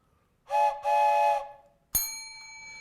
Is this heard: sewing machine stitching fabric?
no